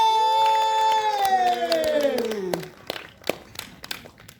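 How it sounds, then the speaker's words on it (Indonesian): An audience claps and cheers at a film discussion event, applause rising under a sustained musical tone and voices, then thinning into scattered claps and shouts. "Tapi aku juga mau minta tepuk tangan dong dari teman-teman di sini"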